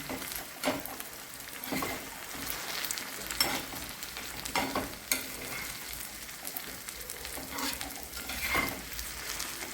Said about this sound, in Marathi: परतून परतून घ्यायचं छान